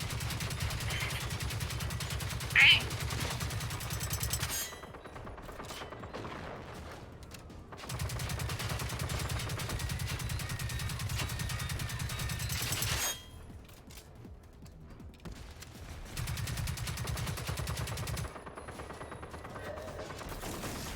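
Bursts of automatic gunfire in the video game Generation Zero, several sustained fusillades of several seconds each separated by short lulls, dense and steady at moderate loudness with no talking.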